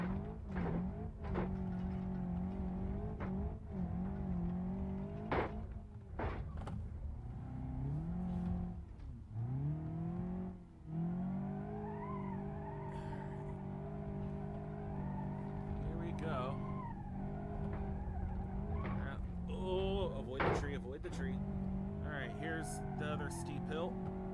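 A Hirochi Sunburst 1.8 Base car in the BeamNG.Drive driving game, its engine droning and revving steadily through rising and falling gear pitches, with someone talking over it throughout.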